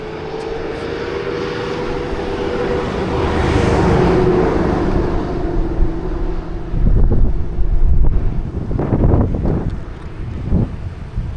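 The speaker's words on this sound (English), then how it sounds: "This wind feels nice." Wind buffets a microphone at a dry canyon overlook near the coast, a loud rumbling roar that swells and gusts unevenly, with low thumps toward the end.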